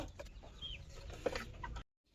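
Clucking from a desi hen settled on a nest to lay eggs, with a few short close clucks over soft barnyard background before it cuts off.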